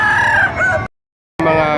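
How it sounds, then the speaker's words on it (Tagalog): An 11-month-old bulik rooster at Padre Garcia, Batangas, crows loudly and close, in two strong bursts split by a brief silence. "Gandang manok."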